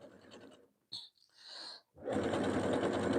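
Sewing machine stitching hems on fabric for a pillow sham, a close motor whir that runs, pauses with a brief squeak, then resumes steadily.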